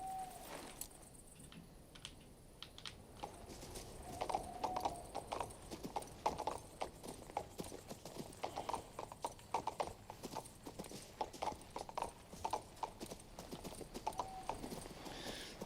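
Horse hooves clip-clop steadily in the video game King's Bounty II, a quick even gait at moderate distance with faint background ambience and no speech.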